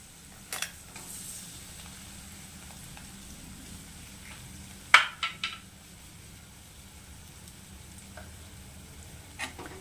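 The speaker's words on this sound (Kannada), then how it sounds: "ಎಗ್ ಬುರ್ಜಿ ಯಾವ ಥರ ಮಾಡ್ಕೊಳ್ತೀರಾ ಸೇಮ್ ಹಾಗೆ ಚೆನ್ನಾಗಿ ಫ್ರೈ ಆಗಲಿ ಇದು" Eggs scrambled with leftover sprouted grains fry quietly in a pan like egg bhurji, with a soft low sizzle and a few metallic clinks of a spatula against the pan.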